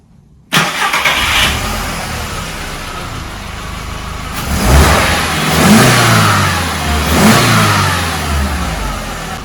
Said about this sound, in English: So now it's time to start her up and see if she will run.